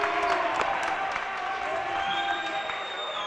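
A crowd at a South Kent School prep basketball game against Lee Academy cheers and claps steadily, a dense wash of voices and applause with some whistling, while a commentator talks over it.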